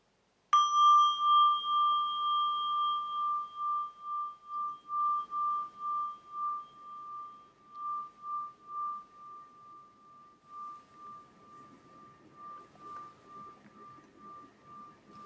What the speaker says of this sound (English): And I'll end this with the sound of the bell.